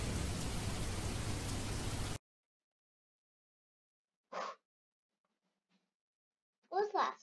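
Steady broadband rain falls in the Roblox game Jailbreak for about two seconds, then cuts off abruptly into silence, followed by brief bursts of speech.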